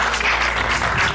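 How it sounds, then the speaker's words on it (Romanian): Applause from a studio audience on a televised Romanian cooking competition, a steady dense wash of clapping filling the whole moment without pause. "Meritați toate aplauze."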